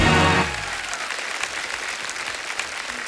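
Studio audience applause on The Kapil Sharma Show for three master chefs: steady, full crowd clapping that follows a brief bit of louder sound at the start and continues evenly to the end.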